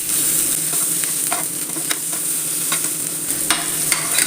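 Masala-coated mackerel frying in a pan, a continuous close sizzle with scattered pops and crackles from the hot oil, heard alone without voices.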